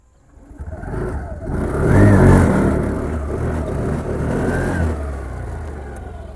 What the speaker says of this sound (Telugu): ఒకసారి ఇంజన్ బీట్ కూడా మీకు స్టార్ట్ చేసి చూపిస్తాను